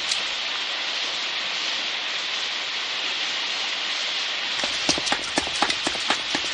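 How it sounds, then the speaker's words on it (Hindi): Heavy rain in an animated cartoon pours in a steady hiss, then louder drops begin slapping a nearby surface in uneven bursts. "कितनी बारिश हो रही है, ये तो रुकी नहीं रही।"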